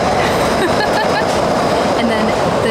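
The Disneyland monorail passes during the Food & Wine Festival, making a continuous loud rolling rumble with a faint squeal, and voices are audible nearby.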